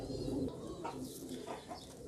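Soft pigeon coos roll in a few low, throaty phrases, close by but quiet, with light background noise and no speech.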